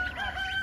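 A single brief honk-like call from a goose, harsh and nasal, held steadily at moderate volume with no talking.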